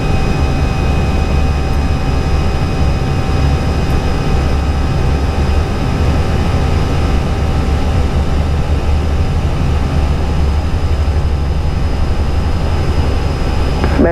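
Airliner jet engines at climb thrust just after takeoff from Medan fill the cockpit with a loud, steady roar and hum that never changes for the whole stretch, with no voices over it.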